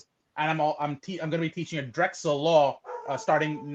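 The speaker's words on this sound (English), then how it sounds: "Sorry about my dog." A dog barks indoors in the background while a person keeps talking over it, the barking partly buried under the steady speech.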